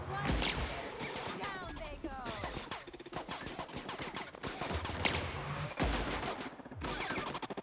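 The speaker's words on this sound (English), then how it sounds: "Shoot through the wall." Gunshots fired through a wall in The Outer Worlds, a dense run of rapid shots with sharp cracks and ringing ricochet-like whines, moderately distant, mixed with game effects.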